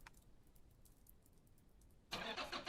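A car engine in the racing game Drive Beyond Horizons, on a rainy drive, turns over and roars to life near the end after a stretch of quiet background hiss, then runs loud and steady.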